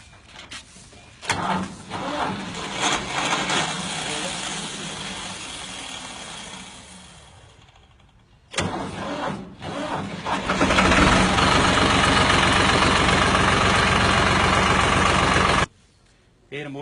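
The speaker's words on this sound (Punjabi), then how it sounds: "ਆਪਾਂ ਪਹਿਲਾਂ ਟਰੈਕਟਰ ਸਟਾਰਟ ਕਰ ਲੈਂਦੇ ਆ" A tractor engine cranks and catches, then runs at a loud, steady idle, with a short pause and a restart partway through; brief voices heard.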